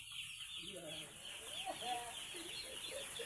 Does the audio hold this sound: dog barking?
no